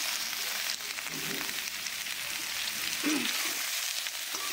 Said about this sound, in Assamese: মাংসখিনি ভালদৰে ভাজি ল'ম।